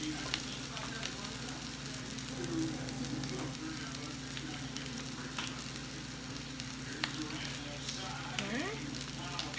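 Old Bay crab cake patties fry in a pan with a steady, fairly quiet crackling sizzle, dotted with small pops and faint clinks, with no talk over it.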